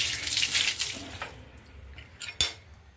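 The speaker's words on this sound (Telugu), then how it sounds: "ఇప్పుడు నీళ్లు పోసి" Water is poured into ragi flour: a loud, close rush of pouring in the first second, then trailing splashes and a sharp clink near the end, with no talking.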